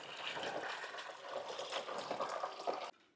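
Water sloshes and trickles as brisket pieces are lowered into a container of curing brine for pastrami and corned beef, a continuous close splashing that stops abruptly.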